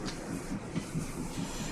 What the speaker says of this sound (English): So next to one of the idling trains, there's actually one that is actively idling.